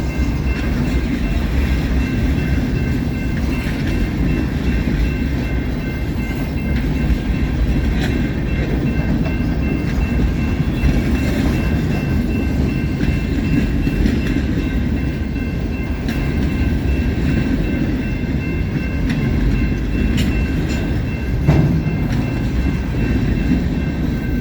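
A CSX freight train rolls past at Hood Siding, loaded center-beam flatcars and boxcars rumbling by in a steady, loud, continuous drone with faint wheel clatter and no voices.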